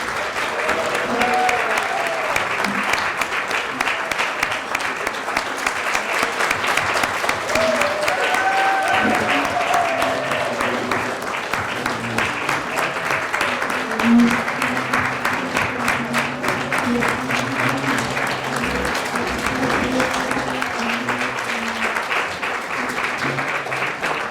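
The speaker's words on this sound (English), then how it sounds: "Roz and Peter, would you please stand and for a round of applause?" Sustained audience applause fills a Lions Club charter dinner hall, a steady dense clapping that continues unbroken for over twenty seconds with faint voices mixed in.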